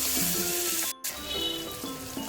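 Food fries in a pan for a village-style liver biryani, giving a loud, steady close sizzle with a brief dropout partway through and faint tonal sounds in the background.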